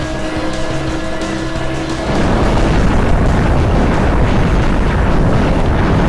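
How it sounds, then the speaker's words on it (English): A boss explodes in the PlayStation game Gungage, a loud sustained rumbling blast that rises over a tonal engine-like drone and then roars on as dense, noisy thunder. "I like the explosion a lot in this boss."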